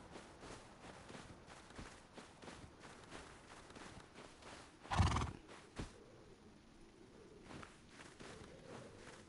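In the video game Rust Console Edition, a white horse gives one sharp whinny amid steady clip-clopping hooves on the ground, fairly faint and continuous throughout.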